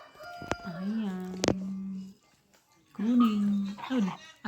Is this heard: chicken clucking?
yes